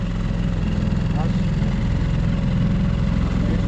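A Storm 6 hp outboard boat motor runs steadily nearby, a continuous low throbbing drone with constant pulsing throughout and no gaps.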